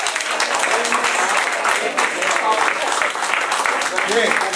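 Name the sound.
audience applause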